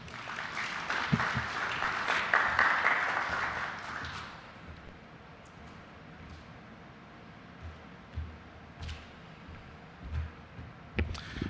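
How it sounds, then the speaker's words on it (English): A conference audience breaks into applause that swells for a few seconds, then fades into scattered claps and light room noise, with a few isolated sharp claps near the end. "Let's give him a better clap, tafadhali."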